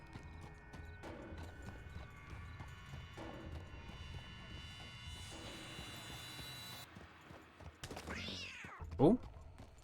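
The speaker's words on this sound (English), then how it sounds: "Oh, is there a cat there?" A cat in the video game Red Dead Redemption 2 lets out a single short meow near the end, rising briefly above quiet game ambience with hoof clip-clops.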